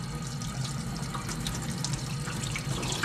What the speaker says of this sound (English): We're gonna rinse this off first, and I just go right to the water.